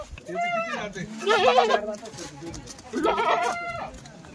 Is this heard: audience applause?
no